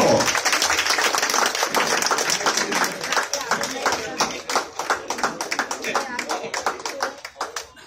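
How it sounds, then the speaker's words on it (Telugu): An audience applauds at a felicitation event, a dense burst of many hands clapping that thins into scattered, uneven claps toward the end. "చప్పట్లు."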